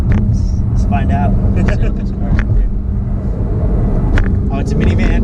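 An electric car accelerating hard in touring mode gives a steady rumbling road and drive whine heard from inside, under excited voices and shouts.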